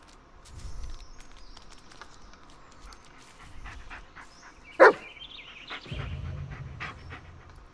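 Bullet, the dog in the video game Blair Witch, pants steadily and gives a single sharp, loud bark partway through, with soft footsteps and quiet ambient rustling around it.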